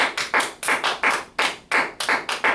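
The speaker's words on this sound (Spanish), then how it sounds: "Denle un aplauso fuerte al Señor." Bursts of hand clapping from a church congregation applauding the Lord, in several rhythmic surges of claps, fairly close and loud with no talk over them.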